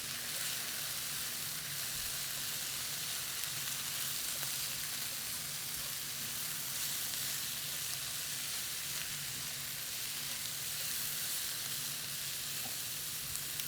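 Sweet potato and black beans seasoned with cumin, salt and pepper sizzle in a hot cast iron skillet, a soft, even frying hiss that runs continuously with only faint stirring and no talking.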